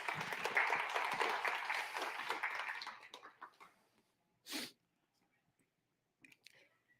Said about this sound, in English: Everyone give them a round of applause as well.